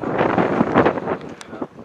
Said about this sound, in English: And it is windy out here, as you can tell.